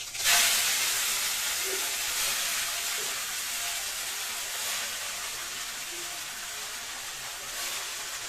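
Leafy greens hit hot oil with dried and green chillies, a sudden loud sizzle that settles into a steady, close, hissing fry lasting several seconds.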